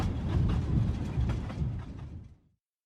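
A train runs along rails with rhythmic clacking and rumbling wheel noise, moderately loud and steady before cutting off abruptly.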